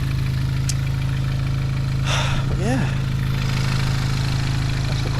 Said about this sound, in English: Engine sounds a lot better now that I've topped up with oil.